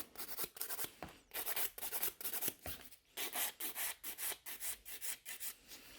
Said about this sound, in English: for filing the product, I'm using 100 grit